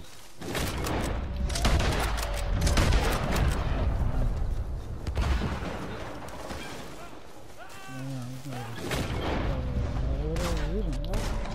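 Heavy rapid gunfire with explosive rounds in a multiplayer shooter video game, dense booming bursts sustained through most of the stretch, with excited players shouting and laughing over it.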